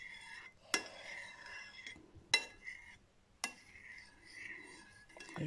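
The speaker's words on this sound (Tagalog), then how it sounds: "Haluin natin." Spoon clinks against a pot while curry powder is stirred into coconut milk for chicken curry, with three sharp metallic knocks spaced about a second apart over a quiet, soft scraping background.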